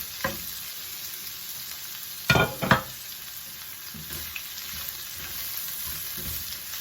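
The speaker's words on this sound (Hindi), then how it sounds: "और इसको हम तेज आंच पे, हाई हीट पे हम इसको स्टर फ्राई कर लेंगे सबको" Beef chow mein stir-frying in a pan over high heat, a steady soft sizzle running throughout with two louder bursts of clatter and hiss partway through, close and alone without talk.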